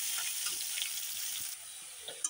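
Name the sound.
potatoes frying in oil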